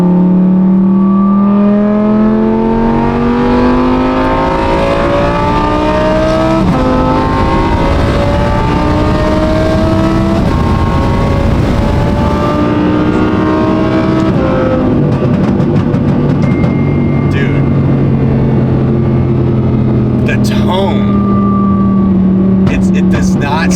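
An Audi R8 with a very loud exhaust revs hard and keeps climbing, its growl sustained and rising in pitch over and over, with crackles and pops near the end. People talk underneath.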